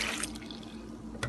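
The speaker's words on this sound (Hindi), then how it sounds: "दूध डालेंगे" Cold milk, two cups, poured into a jug holding chopped strawberries for a strawberry milkshake: a short, close liquid pour with a splashy start and a brief splash near the end, no talking.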